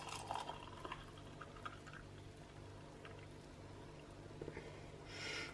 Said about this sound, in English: I'm just going to pour it out into the glass